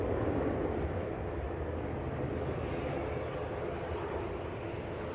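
An airliner departs Edinburgh airport, its broad jet roar holding steady and fairly distant, a continuous wash of engine noise with no voices.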